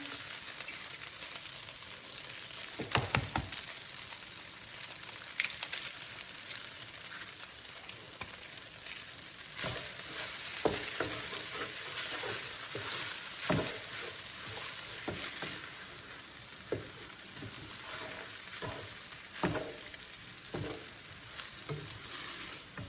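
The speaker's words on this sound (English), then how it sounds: "And then I'm going to crack 2 eggs. Put it in here." Two eggs fry in a pan with a steady, crackling sizzle that rises and falls, broken by scattered sharp pops and spatters through the whole stretch.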